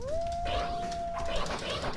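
In the Neo Geo game Sengoku, a dog gives one long howl that rises briefly, then holds a steady pitch for about a second. It sounds over busy, constant game background noise.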